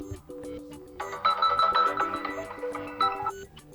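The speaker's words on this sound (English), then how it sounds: "Now click on alarm tone, tap on one of those options" Alarm tone from a Nubia Red Magic 8S Pro phone, a bright melodic electronic ringtone with stacked synthetic notes, playing clearly for several seconds.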